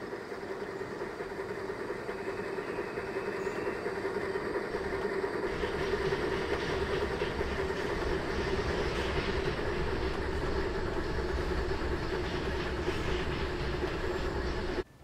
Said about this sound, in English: a coal train pulls through, again with a normal pair of USRA engines